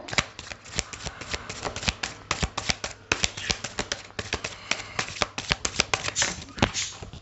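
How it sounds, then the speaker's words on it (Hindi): Tarot cards shuffled and dropping onto a surface, a dense run of crisp, fast papery riffles and soft slaps in irregular bursts, close and fairly loud, with no talking over it. "कार्ड्स गिर रहे थे"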